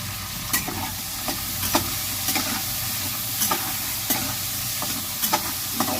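Soaked chickpeas fry in a pan with potato while a spatula stirs them, making a continuous close sizzle broken by frequent short scraping clicks at an uneven pace.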